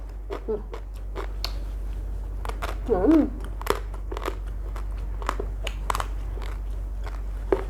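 Close, crisp crunching as crunchy papaya salad and boiled snails are bitten and chewed repeatedly, with a brief murmur of voice partway through.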